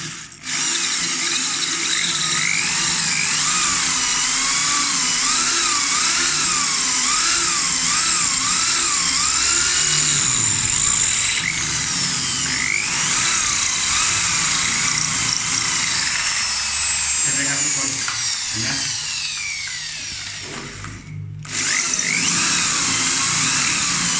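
An electric drill with an arrow-head bit drills through a wall while installing a water heater, a loud continuous whine rising and falling in pitch with a brief pause near the end before it resumes.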